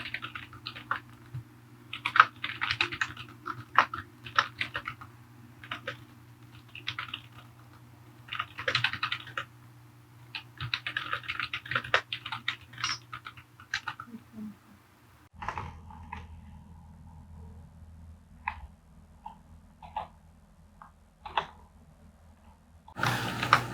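Fingers tap on a computer keyboard in quick irregular bursts of clicks separated by pauses, close and fairly faint over a low hum, with no talk.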